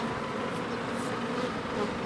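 Close, busy buzzing of many honey bees around a hive box, a constant droning hum throughout with no speech.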